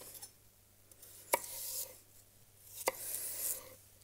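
A knife chops two stalks of celery into cubes on a cutting board, with two sharp, distinct cuts roughly a second and a half apart amid quiet kitchen rustle and scraping.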